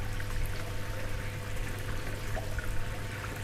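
Water pours steadily from a garden koi pond waterfall, a continuous close splashing rush with a full low rumble and no pauses, with no one speaking.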